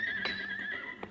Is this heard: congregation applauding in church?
no